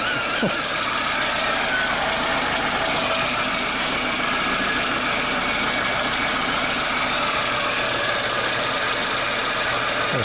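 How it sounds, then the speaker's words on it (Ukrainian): A VAZ 2115 car engine idles steadily with a fast ticking, knocking rhythm, close and continuous without any talking. "чик-чик-чик-чик-чик працює двигун"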